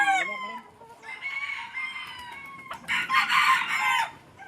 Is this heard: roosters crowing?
yes